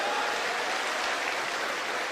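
An audience at a kavi sammelan poetry event claps in a dense, steady burst of applause that holds at an even level for about two seconds, with no voices.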